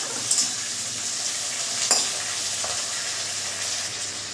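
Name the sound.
cashews frying in a pan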